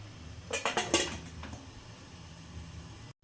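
Idli steamer pot and its rack handled for steaming jowar noodles: a quick run of metallic clinks and clatters of the pot and rack, close and fairly loud, then a soft fading knock over a low steady hum.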